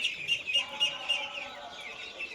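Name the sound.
three-day-old ducklings peeping in brooder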